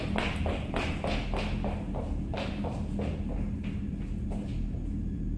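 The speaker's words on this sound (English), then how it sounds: "Footsteps running real close to you." Rapid footsteps run close by inside a house in the horror game House of Number 76, a quick series of sharp taps and thuds over a low steady rumble, with no voices.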